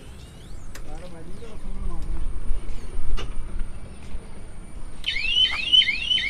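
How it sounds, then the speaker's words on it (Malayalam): Reversing alert on a Greaves electric auto rickshaw, an extra fitted sound system giving a repeating warbling electronic beep near the end, loud and close, over engine-free vehicle noise and background voices. "ആ റിവേഴ്സിന് അതേപോലെ ഒരു സൗണ്ട് സിസ്റ്റം ഉണ്ട്"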